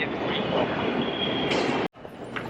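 A subway train rolls in with a loud, continuous rumble and screeching wheels, close by, cutting off abruptly for a moment before the rolling noise returns.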